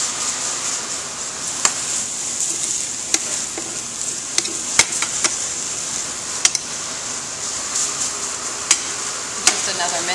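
Sausage browning fast in a hot pan, a steady bright frying hiss running throughout with occasional sharp ticks and pops, close and continuous with no voices.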